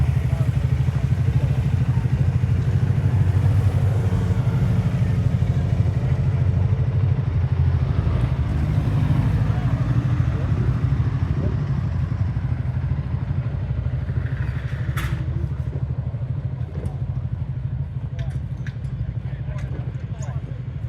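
Two Honda motorbikes and a Yamaha idle together outdoors on a rideout stop, a steady low engine rumble running throughout with occasional clatter and people talking nearby.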